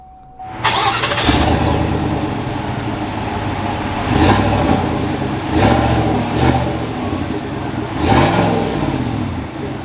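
A 2021 GMC Sierra 1500 SLT pickup engine cranks and fires up, settling into a steady idle with several brief revs rising and falling, loud and close with no talking.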